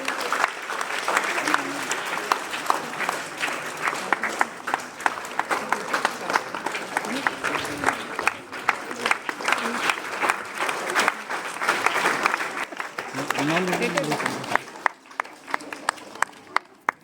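Sustained, loud applause from a crowd at a school investiture ceremony as the head boy receives his badge, with steady clapping throughout that thins out near the end, and voices in the background.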